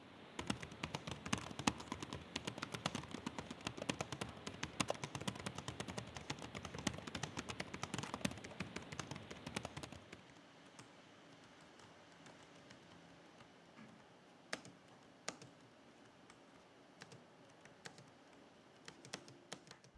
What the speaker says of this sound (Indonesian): berikut ini bisa coba kasih contoh deh suara feedback dari keyboard HP Omen 16